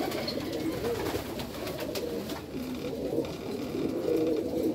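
Pigeons coo steadily in a loft or dovecote, a soft low rolling murmur of several birds overlapping continuously, fairly quiet and close, with a faint higher chirp now and then.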